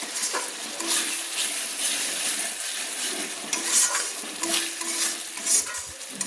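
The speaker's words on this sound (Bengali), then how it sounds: "মশলাটা আমার একদম কষানো হয়ে এসছে" Masala fries in oil for chicken do pyaza while a spatula scrapes and stirs it, with a steady close sizzle broken by repeated sharp metallic scrapes against the pan.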